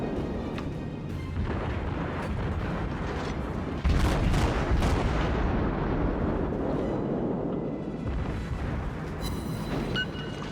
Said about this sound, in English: it is actually kind of difficult to hit these targets with the high arc of the guns on these Clevelands.